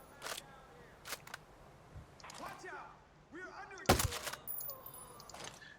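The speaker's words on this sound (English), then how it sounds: "You don't have to be a dead eye with this sucker, because you can fire such follow-up shots so quick." Rapid shots from a sniper-class rifle in the video game Ghost Recon Breakpoint crack out as several sharp bursts spaced across the clip, with quick follow-up shots at a moderate, steady level.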